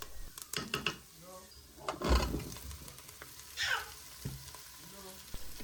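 Vegetables sautéing with onion in a pot, a soft sizzle with occasional stirring clatter of a utensil against the pot, heard close up while a person talks over it.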